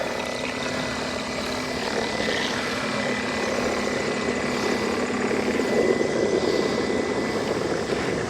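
A WYBOT F1 solar pool skimmer sits in the water with both motors running, giving a continuous, steady whirring drone with a faint tonal hum, close and unbroken throughout.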